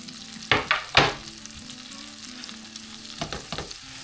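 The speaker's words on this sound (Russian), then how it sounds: "И слегка пережарим лук." Onion frying in a pan of vegetable oil and butter, with a few sharp stirring scrapes and bursts of sizzle early and late over a steady low frying hiss, close by.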